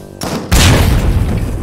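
A single heavy hand cannon blast in a video game: sharp, loud onset with a booming low-end tail that rolls on for about a second, preceded by a brief quieter moment.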